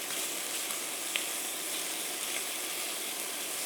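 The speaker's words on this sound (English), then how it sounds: "the meat is starting to brown, so I'm going to flip it over" Chunks of beef for a tangy Limburg beef stew sizzle steadily as they brown in a pot, giving a dense, even hiss with a faint spit or two and no talking.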